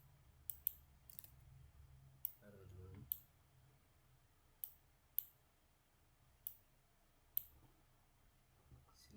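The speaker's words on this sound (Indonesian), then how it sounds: "Kita ketik aja." Sparse, sharp clicks of keys being pressed on a computer keyboard, about eight separate taps spread unevenly over a steady low hum, with a brief murmur partway through.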